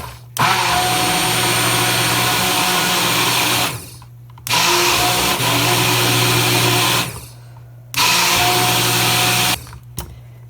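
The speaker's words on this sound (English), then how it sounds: "I'm just going to use my stick blender, and you want to kind of just blend this up really well." A handheld stick blender mixing a batch in a kitchen runs loud and steady in three long bursts of about three to four seconds each, separated by short pauses, with no talking.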